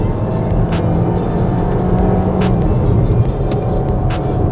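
Volkswagen Tiguan 1.5 eTSI petrol hybrid accelerating in sport mode, heard as a steady, fairly loud engine drone inside the cabin with road noise and a few sharp clicks, no talking.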